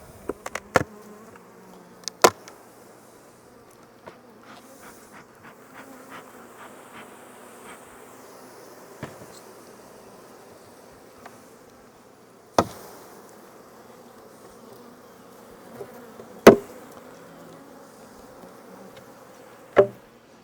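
Honey bees hum in a low, continuous drone around beehives, broken by a few sharp knocks and taps close by.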